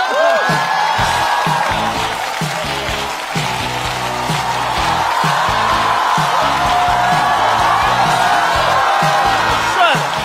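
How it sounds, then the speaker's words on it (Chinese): A stand-up comedy competition stage audience cheers, whoops and applauds as a comedian is welcomed on, a sustained loud crowd roar with shouts over it; a voice speaks through the noise. "掌声欢迎"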